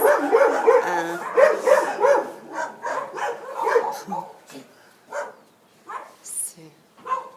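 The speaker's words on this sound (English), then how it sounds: "So this guy is pushing a cart up the hill, and the dogs aren't very happy about it." Several dogs bark in repeated, overlapping bursts at a man pushing a cart up a hill in Peru, loud at first, then thinning into scattered, more distant yips.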